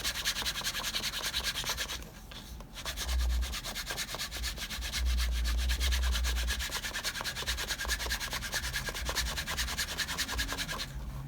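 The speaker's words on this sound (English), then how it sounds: "You can rub this all day long and it just gets slicker and slicker." A leather guitar strap is rubbed briskly by hand to slick it, giving a continuous close, rhythmic scratchy rubbing with quick repeated strokes and no talking.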